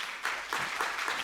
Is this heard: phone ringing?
no